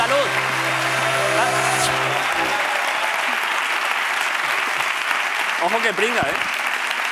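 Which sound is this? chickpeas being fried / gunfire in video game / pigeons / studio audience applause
studio audience applause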